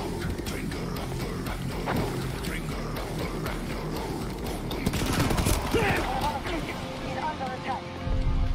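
Dense rapid gunfire in the shooter game Battlefield 2042, rounds fired through a wall, crackling bursts over a steady rumble of vehicle and battle noise.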